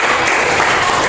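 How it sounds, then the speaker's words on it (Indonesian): A classroom of students applauds together in a dense, steady wash of clapping that stays loud and even throughout, with no pauses. "jadi mari kita tepuk tangan untuk kita semuanya"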